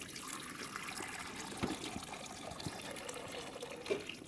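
Water is poured out for a mother rabbit and her babies, a faint continuous trickling and splashing with a few soft knocks, steady throughout with no talking.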